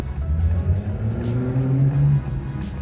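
A Honda Fit driving along a road in rural Japan, its engine a steady low hum with tyre and road rumble, close and continuous throughout without talk.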